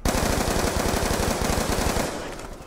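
Galil rifle firing in the Black Ops 2 Zombies video game on the Die Rise map, a loud, rapid continuous burst of automatic fire that stops near the end, with no talking.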